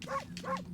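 In the video game Okami, a dog gives two quick, close barks or yips in rapid succession, all in under a second.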